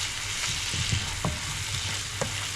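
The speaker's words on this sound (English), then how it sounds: "While the onions are cooking in the butter" Onions cooking in butter in a pan with a little salt, giving a steady close sizzle and frying hiss with a few soft stirring scrapes, and no talk.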